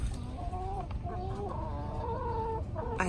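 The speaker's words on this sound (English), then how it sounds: "I have a chicken on a perch right there." A chicken perched in a backyard coop gives a run of soft, close clucks and murmuring calls over a steady low background hum.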